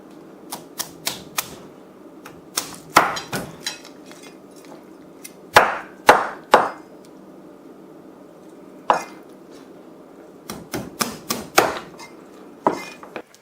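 Nutcracker cracking a cooked lobster shell, giving a dozen or so sharp close cracks and clacks in irregular bursts with quiet pauses between them.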